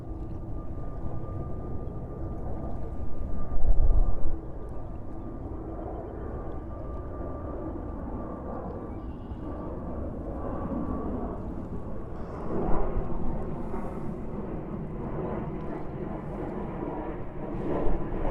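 A jet airliner taking off at JFK airport, a deep, loud rumbling roar that swells and fades and stays strong throughout, with a distant whine carrying across the airfield.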